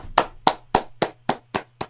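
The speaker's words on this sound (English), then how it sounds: "Round of applause." Seven sharp, evenly spaced hand claps ring out close up, a slow deliberate rhythm of about three per second against a faint low hum, with no talking.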